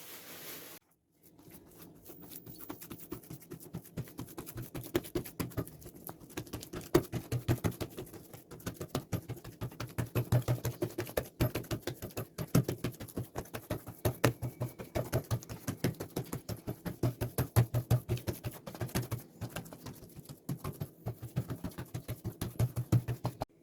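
Hands press and shape croissant dough into a large sheet, making a long run of soft, sticky close-up taps and crackles that come in quick irregular clusters, fairly quiet and with no talk.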